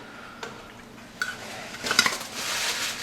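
Metal canning-jar lids clink and rattle against each other and a surface as they are dried and set down while making blackberry jam, a few sharp scattered taps building to a busier jangle.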